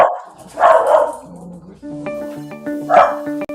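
Dogs bark in two loud, close bursts, a quick cluster of yips and barks, then a pause with faint whimpering before another bark; no one speaks.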